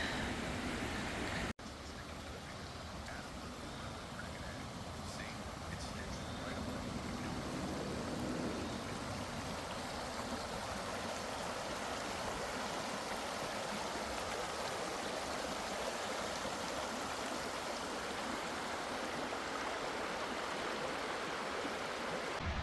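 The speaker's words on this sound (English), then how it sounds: "we're at the Paddy's River Falls" Paddy's River Falls near Tumbarumba, NSW, roars as a steady broadband rush of falling water after a brief opening click, continuous and fairly close, with no talk.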